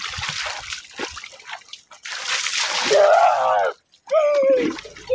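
Water being poured, bursts of hissing splash and spatter that come and go, broken by short pauses, with voices talking over parts of it.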